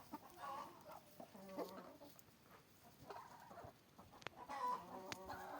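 Free-range chickens out in winter cluck and murmur softly, with scattered short calls rising and falling at close range and brief sharp clucks breaking through the quiet.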